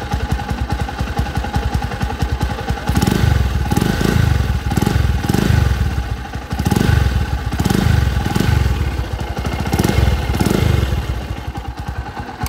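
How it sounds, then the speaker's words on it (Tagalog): Noisy motorcycle engine idling and revving up close: a loud continuous clattering rumble with repeated rhythmic surges of throttle, no talking. "Masyado daw maingay yung makina nito."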